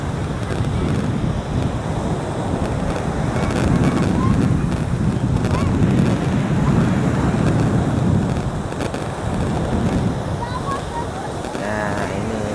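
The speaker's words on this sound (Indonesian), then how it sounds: "Anginnya kencang ya, airnya tambah naik ini." Strong wind buffets the microphone at Pasir Putih beach in Tuban, East Java, a steady rushing roar with surf mixed in and brief voices in the background.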